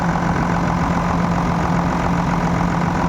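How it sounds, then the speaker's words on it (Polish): A car engine's cooling fan spins steadily beside an idling engine, a constant loud whirring drone with a low hum running unbroken from start to end. "Wentylator kręci się tak."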